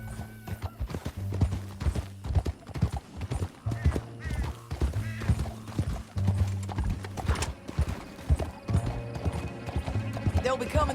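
Horse hooves clop in a galloping rhythm in the Red Dead Redemption 2 video game, steady and close, with a horse whinnying and voices and game sounds layered over the hoofbeats.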